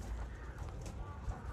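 Homing pigeons at an aviary give faint, low cooing over a steady soft background hum, distant and quiet throughout.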